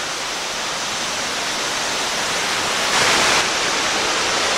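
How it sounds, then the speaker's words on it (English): Constant roaring hiss of a waterfall, loud and steady, with a brief surge of brighter spray noise partway through. "we'll get another view of the waterfall from down here too"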